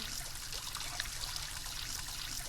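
Steady stream of water pouring in the Roblox game Brookhaven during a washing scene, a continuous broadband splashing rush with no pauses, close and fairly loud, with no talking.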